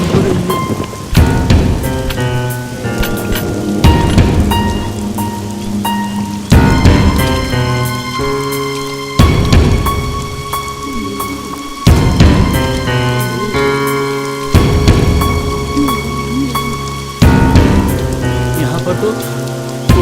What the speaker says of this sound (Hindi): बारिश अभी भी हो रही है।